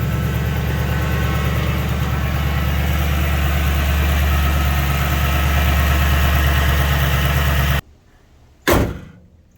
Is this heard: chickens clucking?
no